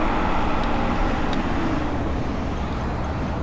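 Loud, dense roar of wind and road noise from a Vostok 1 Hype 30,000W 92V electric scooter with 14-inch wheels racing at around 89 mph, steady and unbroken for a few seconds.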